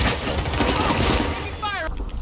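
Gunfire in the video game Warzone Caldera, dense loud bursts of shots forming a continuous barrage that ends abruptly, with game voice chatter and effects mixed in.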